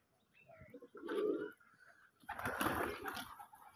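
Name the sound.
pigeons cooing in a pigeon farm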